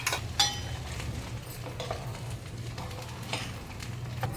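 Cumin and mustard seeds tempering in hot oil, a steady soft sizzle with a few metallic clinks of a spoon against the pan, close up and without talk.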